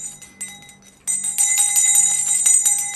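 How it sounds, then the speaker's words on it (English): The TikTok live freedom bell gift chime rings out: a bright, sustained bell tone with shimmering high overtones that swells after a quieter opening, loud and alone without speech. "We got a freedom bell."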